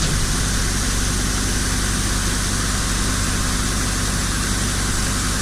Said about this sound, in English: We got the fancy seed wagon here with the hydraulic auger,